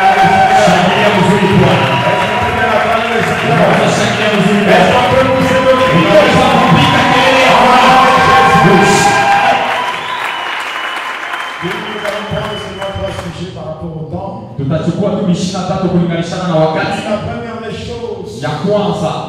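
A church congregation cheers and claps, with loud crowd applause and shouting that dips partway through and then resumes, while a preacher speaks over it.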